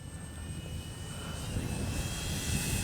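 An RC X-Fly Spitfire warbird model plane takes off with a steady, rising electric motor and propeller whine that grows louder and closer over a few seconds, with no speech.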